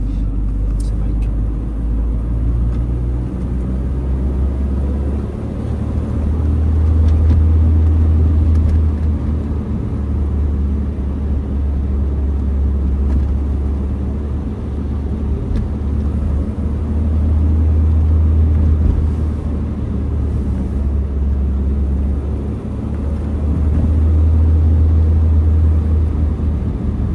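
A 1973 Citroen DS Super 5 driving along a dry stretch of road: a steady low engine and tyre rumble heard from inside the car, swelling and easing in slow waves over the half-minute.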